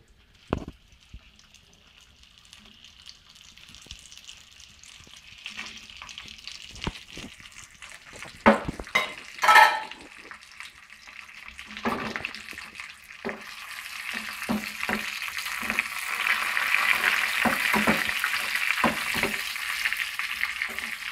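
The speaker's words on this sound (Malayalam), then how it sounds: "എണ്ണ കാഞ്ഞ് വരുമ്പോൾ നമ്മൾ വേപ്പില ഇട്ട്" Curry leaves dropped into hot oil for a Kerala-style bitter gourd curry, giving a steady frying sizzle that swells louder in the second half, with sharp crackles and spatters scattered through it and no talking.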